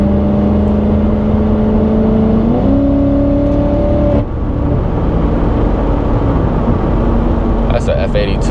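A BMW F82 accelerating on a winding mountain road, a loud continuous engine note rising in pitch through gear changes, heard close from a following car, with voices near the end.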